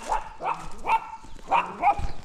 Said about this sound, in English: Livestock guardian dog.